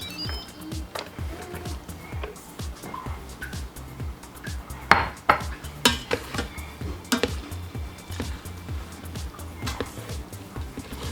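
Beans and rice are scooped into containers, with close, uneven clinks and clatters of a utensil against dishes and lids, some sharper knocks in the middle, and a quiet room behind.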